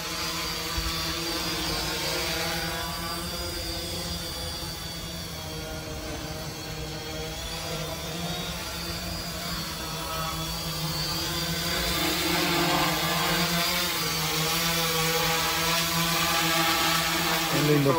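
Small drone with an ESP32 Betaflight flight controller flying nearby: a steady, loud propeller whine with layered motor tones that rises slightly in intensity toward the end.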